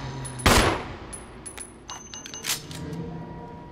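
Gunfire in the Resident Evil HD Remaster video game: one loud shot near the start, then a few lighter metallic clinks and scattered softer impacts trailing off.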